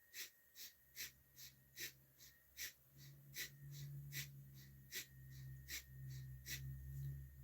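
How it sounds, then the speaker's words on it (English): Breath of fire breathing exercise done through the nose: a fast, even series of sharp nasal huffs, roughly two a second, close and quiet over a faint low hum, with no talking. "breath of fire done for 20 breaths is a active inhale through the nose and a passive exhale through the nose"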